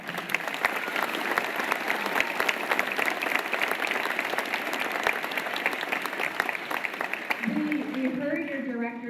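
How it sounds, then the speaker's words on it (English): An audience at a middle school spring band concert applauds, dense steady clapping throughout before it gives way to a voice speaking at the very end. "Let's give her a round of applause."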